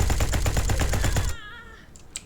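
A sniper rifle fires in the space combat game SpaceBourne 2 as a rapid run of about ten close, loud sharp shots. They stop abruptly, leaving a fading ring and one faint later click.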